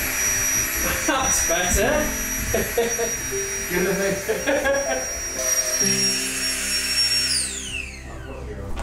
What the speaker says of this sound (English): A flex tail pump is a game changer.